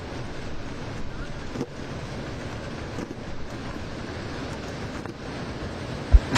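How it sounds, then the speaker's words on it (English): Strong westerly wind gusts buffet the microphone at an outdoor tennis bowl on centre court, a continuous rumbling roar with surging bursts throughout and a sharp thump near the end. "the wind picks up again. Big gusts blowing in from the west and swirling around this bowl."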